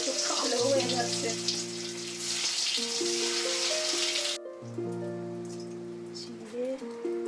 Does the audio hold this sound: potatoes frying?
yes